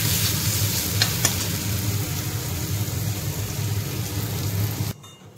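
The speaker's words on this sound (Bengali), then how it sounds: "আর এই যেদিকে উচ্ছে ভাজছি, উচ্ছেটা ভাজছি, তারপরে আলু ভাজবো।" Bitter gourd slices frying in a pan give a steady, loud sizzle with soft stirring scrapes, running nearly five seconds before cutting off abruptly.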